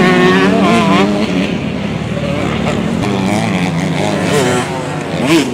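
At the French championship opener in Gorges, 150cc four-stroke motorcycles race past with loud, wavering engine notes that climb and fall through the gears, continuous and fairly close, with a commentator's voice faintly underneath.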